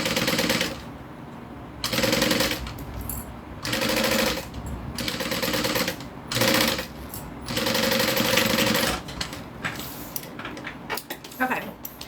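A sewing machine stitches a zipper into a bag in loud, close bursts of rapid mechanical rattling, several runs of a second or so separated by short pauses, then choppier stop-start stitching.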